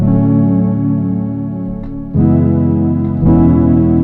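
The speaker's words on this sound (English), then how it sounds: "Very full sounding pad sound." A loud, sustained synth pad preset from the Driller VST holds thick layered chords, shifting to new chords twice, full and smooth with no voices.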